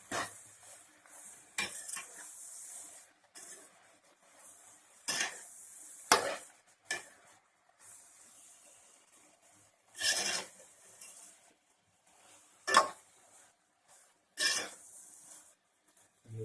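Ivy gourd and tomato curry stirred in a pan, a series of separate scraping and clanking bursts at irregular intervals with quiet gaps between them, close by, with no talking.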